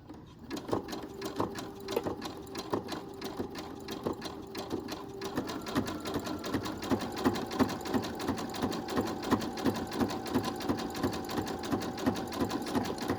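Sewing machine running a zigzag stitch on a homemade fabric medical mask, its rapid needle chatter steady and close, briefly pausing then picking up again and stitching continuously to the end.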